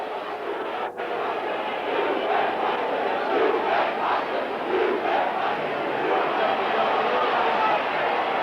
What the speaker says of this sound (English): And you'll hear the crowd there.